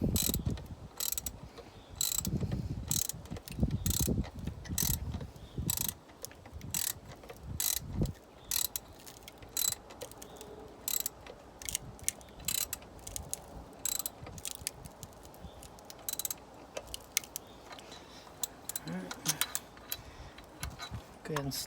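A ratchet snugs up exhaust manifold bolts on a Mini Cooper S R56, giving bursts of quick close clicks with pauses between them and occasional speech.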